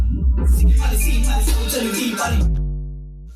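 A Netflix promo song plays loudly through a home 5.1 amplifier with an ultra digital subwoofer, dense music with a heavy bass floor for about two and a half seconds before dropping to a fading sustained tone.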